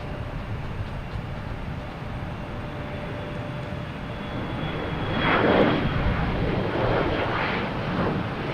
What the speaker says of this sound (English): next taking off, we have a Delta E-175 heading to Philadelphia